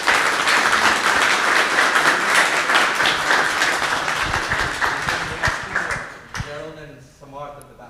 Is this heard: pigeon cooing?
no